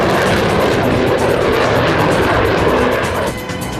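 An F-14 Tomcat fighter jet with twin GE engines roars loud and continuous, a dense broadband rush that eases slightly near the end.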